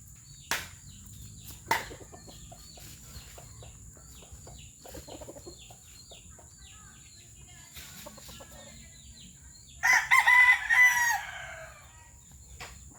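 A rooster crows once, loud and near, late in a quiet stretch filled with scattered clucks, taps and faint background noise.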